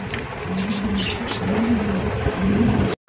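Kashmiri racer pigeons at a market coo in low, repeated throaty phrases, close and fairly loud over a dense crowd murmur, ending in an abrupt cut.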